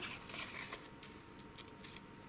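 A small blade slices through fondant to trim the legs of a Lego-style toy soldier cake topper, making soft, steady scraping and rubbing strokes close by with a few faint clicks.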